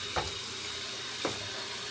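A glutinous rice dessert is mixed in a bowl, with two brief wet stirring scrapes standing out over a quiet kitchen background.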